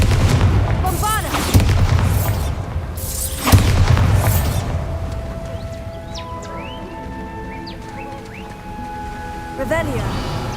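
Spell blasts from Confringo and Bombarda in Hogwarts Legacy, several loud booming bursts in the first few seconds followed by quieter magical ambience with ringing tones and another burst near the end, over game background sound.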